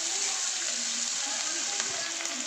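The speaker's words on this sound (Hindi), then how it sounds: "और अब इसको जो है देखिए खूब अच्छे से फ्राई करना है।" Chicken chili frying in a pan, a loud, steady, broadband sizzle that fills the whole short stretch, with faint stirring clinks.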